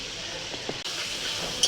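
Fish fat sizzles in hot oil with salt and turmeric, a steady close hiss of frying with a few faint clinks and no talking.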